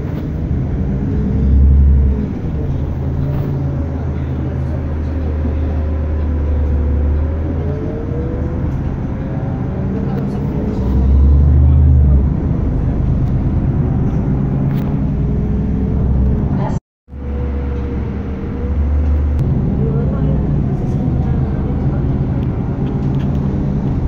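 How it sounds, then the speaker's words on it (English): Ride inside a town bus in Hässleholm, with a continuous low engine rumble and road noise, swelling at moments as the bus accelerates, while a voice talks now and then over it. "Right now I'm going with bus number one."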